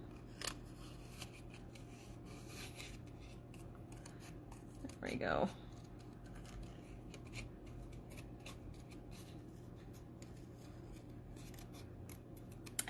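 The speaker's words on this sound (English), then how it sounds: "just gives you a little more structure when you're cutting, because I feel like sometimes it can be hard to fussy cut letters like this" Scissors snip slowly and steadily through paper, fussy-cutting around hand-drawn letters, soft close rasping cuts under a quiet hum, with a brief spoken aside midway.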